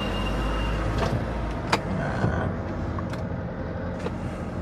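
Power windows on a car are worked one after another, a close whirring electric motor with a few sharp clicks and thumps as each pane stops, heard inside the vehicle.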